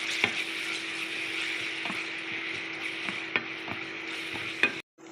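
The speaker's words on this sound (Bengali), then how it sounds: "পেঁয়াজটা ভাজা ভাজা করে নেব" Steady broadband frying sizzle of onions and chopped green chillies in oil fills the pan, with occasional sharp clicks of a utensil stirring, ending abruptly in near silence.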